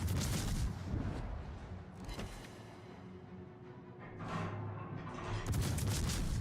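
Naval ship guns booming in World of Warships, a heavy blast at the start and further deep rumbling shots, loud and continuous with no talk.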